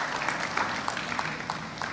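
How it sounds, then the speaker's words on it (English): Audience at a university convocation ceremony gives a round of applause, dense steady clapping from a crowd with a few sharper claps standing out. "Please, a big round of applause."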